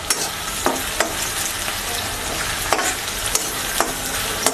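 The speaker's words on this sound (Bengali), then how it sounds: "পেঁয়াজটা ভাজা হয়ে এসেছে" Onion sizzles in a pan for a chanda fish curry while a spatula stirs it, a close, constant frying hiss punctuated by regular scraping strokes roughly every second.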